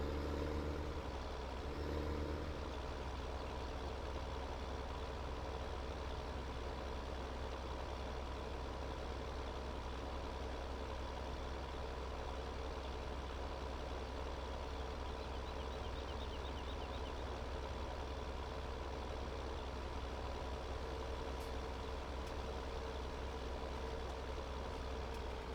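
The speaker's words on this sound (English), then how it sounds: "Is it the flatbed tow truck, Road Dog?" A heavy flatbed tow truck engine in Farming Simulator 2017 drones steadily at idle, a continuous low rumble with no breaks or voices.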